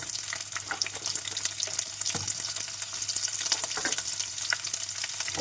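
Whole garlic cloves fry in a pan of oil for a garlic-chili chutney, a busy, crackling sizzle with occasional stirring scrapes, steady and close with no voices.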